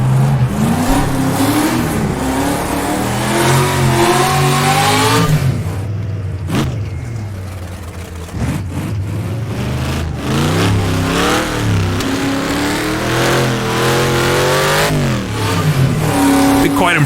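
A 1950s sports car engine in the rFactor2 racing game at the Dundrod road circuit, revving up and down repeatedly through the gears, loud and close, with speech heard over it.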